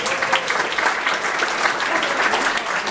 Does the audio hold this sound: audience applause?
yes